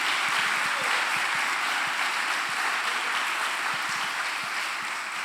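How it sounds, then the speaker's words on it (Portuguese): A church congregation applauds steadily, a dense wash of clapping that holds at an even level for several seconds, with no speech over it. "Aplaude o Senhor Jesus por isso, pela vida desse irmão."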